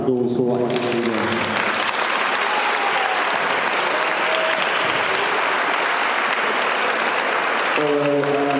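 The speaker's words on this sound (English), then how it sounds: "So, a massive round of applause for what he's doing." An audience at a party breaks into a loud, dense round of clapping that fills the room and holds steady for several seconds, with a voice speaking briefly before it starts and again as it fades.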